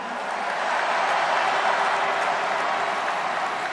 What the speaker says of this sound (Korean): 최성동지에게도 뜨거운 박수 보내주십시오.